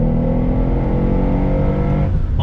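A 2019 Mercedes-Benz AMG SL63 Roadster under throttle on twisty roads, its engine droning loud and close with a steady, rich exhaust note that eases off near the end.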